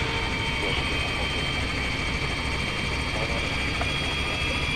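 A helicopter lifts off in the Arma 3 video game, its rotor and turbine making a continuous loud whir with a steady thrum and no talk.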